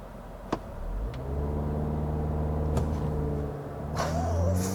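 A 2022 Toyota Corolla Cross AWD pulls away hard from a brake-torqued launch with traction control off, its engine droning steadily and rising in pitch through the gears, fairly loud and with no talk over it.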